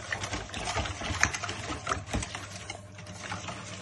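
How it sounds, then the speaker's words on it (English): Yorkshire pudding batter of egg, salt, pepper, rosemary and thyme gets whisked in a bowl, a quick busy patter of light clicks and taps running continuously at moderate, close level. "we'll just give that a little whisk up"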